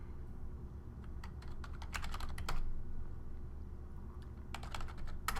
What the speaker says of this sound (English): In order to do that, I type in the command to connect to